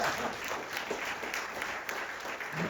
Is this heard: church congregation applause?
yes